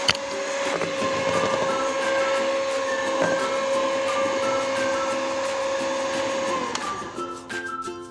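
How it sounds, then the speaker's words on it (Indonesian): An electric mixer runs at low to medium speed through pandan pukis cake batter, a loud steady motor whine with a constant pitch that carries for several seconds, then cuts off with a few knocks. "lalu kita nyalain mixer dengan kecepatan rendah atau sedang aja"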